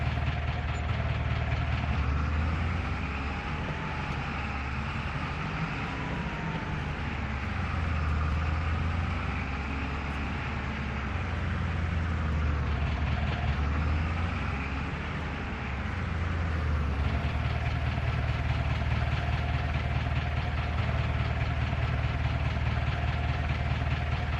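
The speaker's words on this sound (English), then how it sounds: "Tractor's having a good run out today" A tractor engine in Farming Simulator 25 runs with a continuous low, throbbing rumble that swells and eases slightly at intervals, steady and close, with no voices over it.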